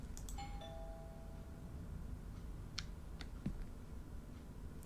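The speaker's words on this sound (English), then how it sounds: "should ring the doorbell" A doorbell rings in the video game Within, a clear electronic two-tone chime near the start, followed by quiet room ambience and a few faint ticks and clicks.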